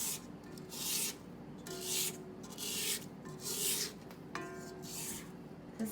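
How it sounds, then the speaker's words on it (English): Spatula scraping the sides of a mixing bowl of creamed butter and sugar for thick chocolate chip cookie dough, a series of close, rhythmic rasping strokes with short pauses between them. "This is a good time to stop and scrape the sides of the bowl"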